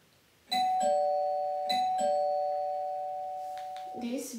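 A doorbell chimes twice in quick succession, each ding-dong ringing out with a long sustained decay indoors, followed by faint movement and voices near the end.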